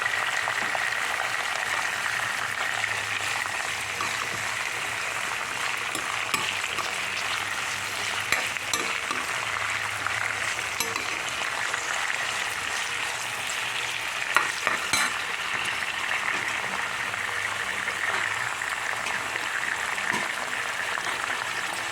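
Broad bean pieces stirred and frying in a pan, a steady bright sizzle that continues throughout, with soft scraping stirs and occasional clicks of the spoon against the pan, fairly close and unbroken by talk.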